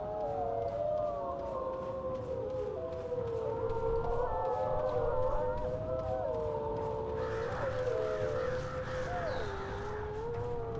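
Wargs in the video game Lord of the Rings: War in the North let out wavering, drawn-out howls that rise and fall, several overlapping against a steady ambient backdrop.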